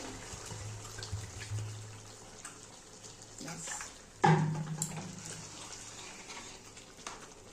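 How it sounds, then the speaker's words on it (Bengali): Water pours into a pan of chicken kosha cooking on the stove, a short splashing gush near the middle over a steady low background hum. "এবার আমি জল দিয়ে দেব।"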